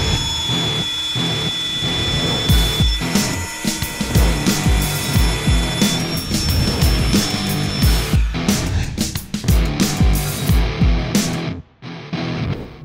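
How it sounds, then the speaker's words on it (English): A loud, sustained grinding and cutting noise of a FEIN Slugger MagForce 90 magnetic drill boring into thick steel, with shrill whining tones and rough rhythmic scraping, ending abruptly. "Well, you reach for a mag drill."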